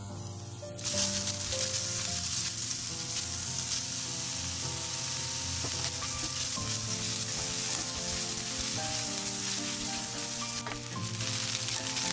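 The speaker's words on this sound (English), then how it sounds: "Browning the mushrooms intensifies their flavor." Sliced mushrooms browning in a hot pan give a steady, close sizzle and crackle with occasional stirring rattles, continuous and loud throughout with no talking.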